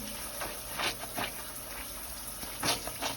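Wet hair being worked with shampoo during a wash with an avocado and tamanu anti-frizz product, giving soft, irregular squelching squishes close by, with a faint watery hiss underneath and no talking.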